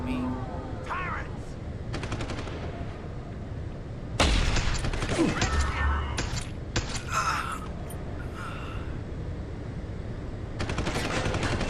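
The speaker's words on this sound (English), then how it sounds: "Apparently someone's right here trying to shoot me." Enemy gunfire in Deus Ex: Human Revolution Director's Cut, bursts of rapid automatic shots coming in several separate volleys, some loud and close, over a steady game background.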